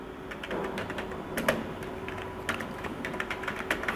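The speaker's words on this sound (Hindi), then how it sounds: "इसके बाद एड्रेस टाइप करता हूँ" Rapid keystrokes clatter on a computer keyboard while an address is typed into an Excel bill form, uneven clicks in short bursts, close and fairly quiet, with no talking.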